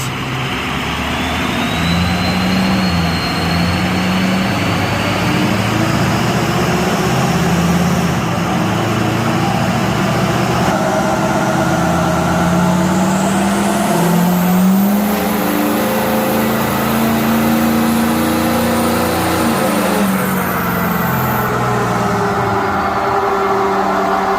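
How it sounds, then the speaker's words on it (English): A Ford 6.0 Powerstroke diesel truck in tow haul mode runs on a dyno, and its loud, sustained engine roar climbs steadily in pitch through the gears, with a brief shift and a rising whine near the end. "we're going to put it in tow haul and see what she does"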